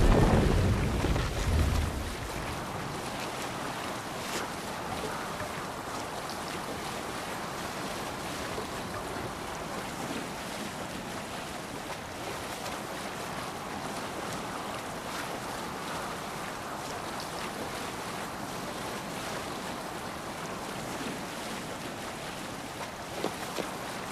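Steady wash of waves and wind around a sailing ship at sea in the video game Assassin's Creed Valhalla, a continuous broad rushing surf sound after a brief louder opening, with no talking.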